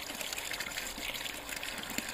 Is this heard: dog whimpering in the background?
no